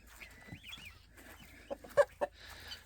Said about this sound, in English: Our chickens got moved up here in chicken tractors for the winter,